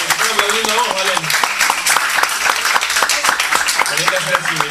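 Audience at a live lyrical classics show applauding steadily, a dense patter of many hands beneath someone speaking and music, continuing throughout.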